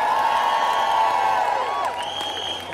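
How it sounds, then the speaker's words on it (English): Crowd at a women's march in New York City cheering and applauding in a broad, sustained wash of noise, with whoops and a drawn-out shout rising above the steady roar. "Round of applause for the New York Immigration Coalition."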